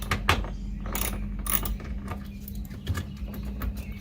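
Ratcheting clicks and metallic mechanical rattles from loosening the bolts on a car windshield wiper motor during replacement, close and steady over several seconds with no speech.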